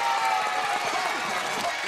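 A children's studio audience cheers and claps in a loud, continuous burst of young voices and applause, with an adult voice also audible.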